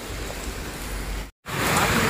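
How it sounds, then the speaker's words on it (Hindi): Heavy rain pouring steadily outside a shop, a dense continuous hiss close by that cuts out briefly near the middle before resuming as loud as before. "इधर बारिश तेज हो गई।"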